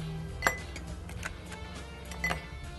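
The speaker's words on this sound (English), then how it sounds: "Gonna start off with some ice cubes." Ice cubes drop into a cocktail glass for a bourbon-style drink made with bacon-infused corn whiskey, giving a few faint, scattered clinks at a moderate distance over a quiet room hum.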